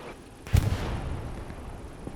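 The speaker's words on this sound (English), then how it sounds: "Artillery coming in on the point." A single heavy artillery impact in Hell Let Loose at Kursk, a sudden close boom that rolls off into a rumbling tail, with a faint second thud shortly after.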